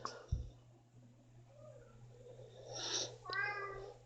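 A cat heard up close but faintly in a quiet room, giving a short meow and a soft purring murmur, with a low electrical hum in the background.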